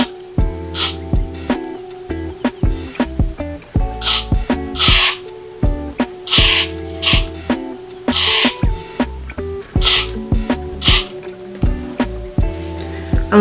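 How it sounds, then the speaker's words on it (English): Hair spray misted onto the hairline of a lace front wig, heard as repeated short hissing bursts over a busy musical backing. "So I'm just spraying just to the front here that is gonna be seen."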